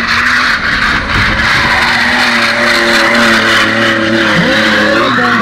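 A BMW drift car sliding around a track, loud and close, engine howling under a continuous harsh tire skid, pitch wavering and dipping near the end.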